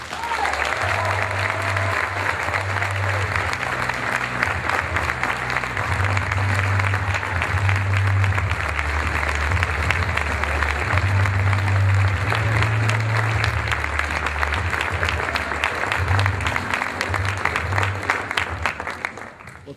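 An audience applauds and cheers for Reverend Theodore Matthews at a Phenomenal Man of the Year award event: sustained, dense clapping from a large crowd with whoops and shouts, steady and loud throughout.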